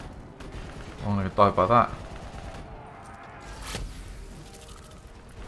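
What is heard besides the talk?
Annihilator pistol firing in video game Call of Duty Black Ops 3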